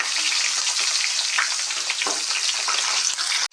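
Capsicum frying in hot oil, a loud steady close-up sizzle and crackle with occasional stirring scrapes, continuous throughout and cutting off at the end.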